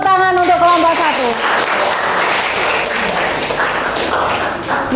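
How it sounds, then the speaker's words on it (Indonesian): A classroom of students claps for a presenting group in a chemistry lesson, dense loud applause starting at once and sustained for several seconds, with a few voices briefly over the start. "Beri tepuk tangan untuk kelompok 1."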